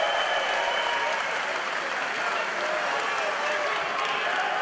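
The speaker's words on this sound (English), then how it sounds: "Listen to that crowd" A wrestling crowd at a House of Hardcore event cheers and applauds loudly and steadily, a dense roar of clapping and shouting that fills the whole stretch without a break.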